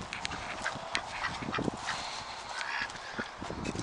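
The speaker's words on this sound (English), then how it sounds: "Look at that duck." A duck outdoors in summer heat gives a run of honking quacks, moderately close, mixed with rustling and shuffling background noise, no speech.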